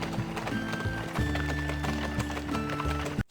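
Video-game horse pulling a cart through a dark abandoned mine tunnel, steady rhythmic clip-clop of hooves over a constant rolling rumble and a low musical drone, ending abruptly.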